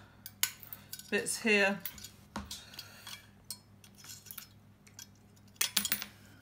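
Small pieces of glass are cut and trimmed for fused glass hearts, giving scattered sharp clinks, snaps and a brief scraping rattle between quiet pauses, with a few words spoken softly nearby.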